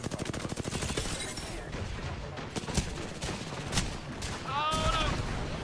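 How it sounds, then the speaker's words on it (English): Rapid gunfire bursts and explosive pops in the video game Apex Legends, dense and loud throughout with sharp cracks, while a voice talks over the action and a brief electronic chirp sounds near the end. "I'm under fire."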